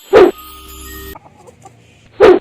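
Two short, loud clucks from a Rhode Island Red chicken close by, separated by about two seconds of quiet background.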